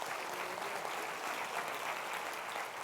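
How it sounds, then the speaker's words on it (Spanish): Congregation applauding during a church service, a dense, even wash of clapping that holds steady and moderately loud throughout. "Dale un aplauso al Señor,"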